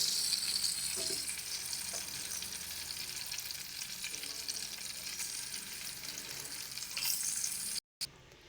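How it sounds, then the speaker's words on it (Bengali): Remaining prawns frying in hot oil for a coconut prawn dish, a continuous close sizzle with soft stirring sounds, fairly even throughout before a short gap near the end. "একই রকমভাবে বাকি যে মাছগুলো আছে সেগুলোকেও ভেজে নেব।"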